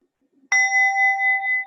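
A single bell is struck once, ringing with a clear sustained tone that decays slowly in an otherwise quiet room.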